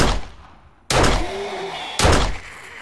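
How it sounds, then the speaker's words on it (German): Two loud, sharp gunshots from the video game 7 Days to Die fire about a second apart, each a sudden bang trailing into a noisy echo. "Die Rita springt in meinen Schuss rein"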